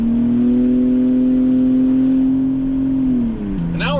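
An Audi Allroad cruises at highway speed around 60 to 65 mph, its engine holding a steady loud drone that shifts pitch near the end, with road and wind noise throughout.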